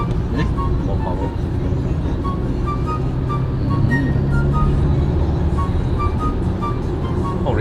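A BMW driven on the road in Sport Dynamic mode gives a steady, close cabin drone of engine and tyre noise that holds evenly throughout, with faint voices at times.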